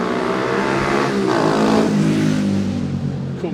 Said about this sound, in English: cool motorbike